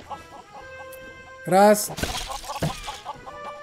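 Chickens in the video game Lego Worlds cluck in short rhythmic bursts behind a steady musical drone, with one brief louder squawk and someone speaking over it.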